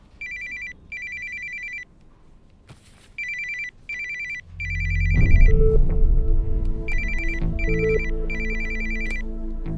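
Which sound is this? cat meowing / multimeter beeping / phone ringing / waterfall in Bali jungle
phone ringing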